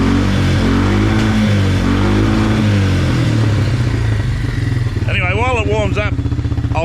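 A quad bike engine idles as it warms up, a loud, close, steady chugging that runs throughout while someone talks over it.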